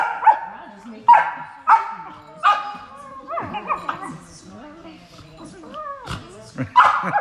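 Standard poodle puppies give repeated high-pitched yips and whimpers in loud bursts, close by, while people talk over and between them.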